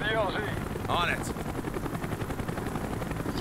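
A helicopter in Call of Duty: Black Ops whirs with a steady rotor thump under gunfire and game effects, while a voice speaks briefly over the start.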